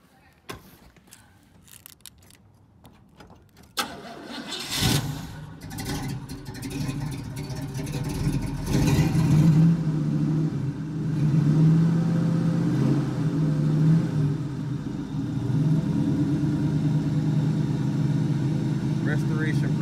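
A 1979 Oldsmobile Cutlass engine cranks and catches after a quiet stretch, then settles into a steady, close idle with a few revs as throttle is applied, while someone talks nearby.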